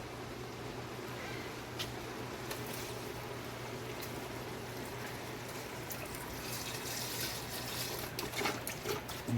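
Chicken broth from a very large carton pours into a pot of onions, a steady liquid trickle and gush running throughout at moderate volume, close by, with no talking.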